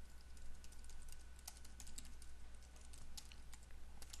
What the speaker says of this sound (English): just type whatever file name it is that you want to burn